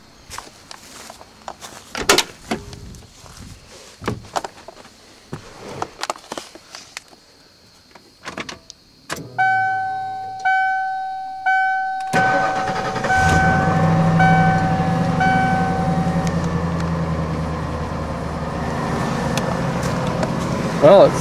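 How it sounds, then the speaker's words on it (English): 1995 Ford F-250 4X4 truck engine cold-started after a spark plug wire replacement: a few seconds of starter cranking in pulses, then the engine catches and settles into a steady loud idle, with some handling noises beforehand. "go ahead and crank it up, do a cold start on it, and see what it sounds like now"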